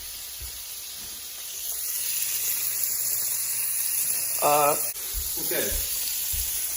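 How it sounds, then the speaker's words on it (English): A steak fries in a pan with a steady, close sizzling hiss, while a brief voice and a few knocks cut in over it. "So clearly the steak right here is boiling"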